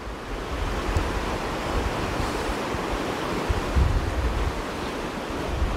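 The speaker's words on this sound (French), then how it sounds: "Là, vous entendez, il y a vraiment de l'eau." A river's rushing water roars steadily and broadly in Alsace, a dense continuous wash with no voices.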